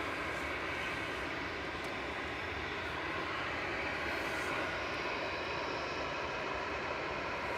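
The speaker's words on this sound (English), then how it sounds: "EasyJet's departing next on 23 left to Barcelona" An EasyJet airliner departs Manchester Airport, its engines a faint, steady distant roar that holds evenly throughout.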